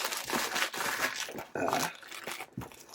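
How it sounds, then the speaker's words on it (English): A Velcro front flap on a Crye Precision AVS (MBAV) plate carrier vest is pulled open, giving close, rasping tearing bursts in short uneven pulls. "unvelcro that front flap"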